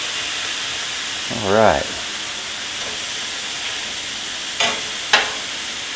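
Poblano pepper hits a hot pan with a steady sizzle and hiss running throughout, a short voice interjecting early and a couple of faint clicks of a utensil near the end.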